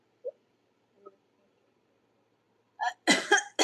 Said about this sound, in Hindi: तेरी बातें सुन के मुझे खांसी आ रही है।